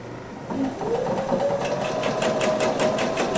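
A sewing machine stitching quilt sampler fabric, starting with a brief low hum and then running in a fast, steady motor whir with a rapid rhythmic needle patter, close and clear with no talk.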